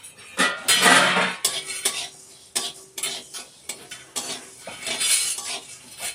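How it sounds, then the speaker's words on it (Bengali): Garlic cloves dry-roasted in a pan without oil, with sharp scraping and clattering of a utensil against the metal as they are stirred, in irregular close bursts and faint sizzling. "কটা রসুন নিয়েছি, রসুনগুলো শুকনো খোলায় ভেজে নেব।"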